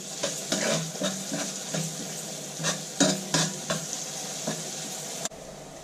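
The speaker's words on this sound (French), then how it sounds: "les oignons, je mélange" Onions stirred in a hot frying pan with a spoon, a steady sizzle broken by repeated scraping strokes, close and moderately loud, ending abruptly.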